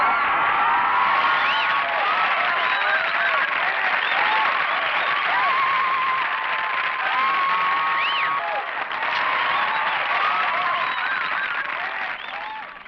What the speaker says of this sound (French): je soulève un tonnerre d'applaudissements